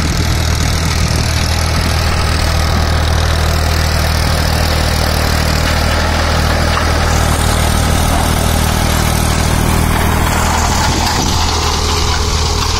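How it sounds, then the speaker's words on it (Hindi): Powertrac 439 Euro tractor fitted with a nine-tine cultivator runs in a field, a loud, steady low diesel chug held constant throughout with no speech. "और काफी शानदार ट्रैक्टर"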